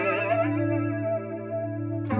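PRS Wind Through the Trees pedal with the regen knob turned up, a guitar note swirling with dense, intense modulation and sustained echoing tones, steady and alone, ending with a short new attack.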